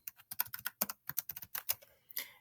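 Someone types a class name on a computer keyboard while setting up a Google Classroom, a quick run of close, crisp key clicks in uneven bursts with a short pause near the end.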